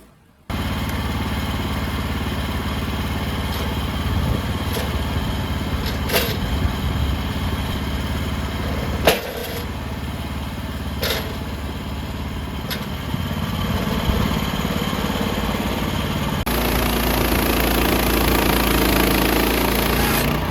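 A chainsaw-type saw engine runs steadily for about twenty seconds while squaring the four sides of a hardwood log, loud and close, with brief sharp clicks and a shift in pitch near the end as a cut finishes.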